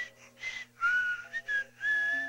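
Thin, wavering whistles through the nose come in short bursts and sustained notes, sliding between pitches with brief gaps.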